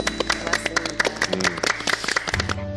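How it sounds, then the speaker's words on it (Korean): Studio audience of parents applauding two guests on a Korean TV parenting show, a brisk round of clapping that carries loudly for a couple of seconds before tapering off with a lower murmur at the end. "우리 두 분께 응원의 정말 힘찬 박수를 좀 보내주시면 정말 고맙겠습니다"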